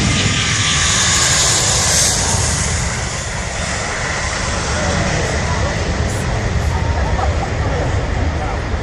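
Airbus A380 jet engines roar loudly and continuously as the airliner climbs away after takeoff at Farnborough Airshow, with crowd babble and a commentator's voice beneath the roar.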